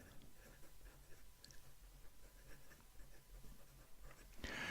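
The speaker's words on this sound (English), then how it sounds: "So we've got here a Leonardo. Writes so well. This is a medium nib." A Leonardo fountain pen with a medium nib scratches softly across paper in a steady, quiet run of strokes, close up and with no talking.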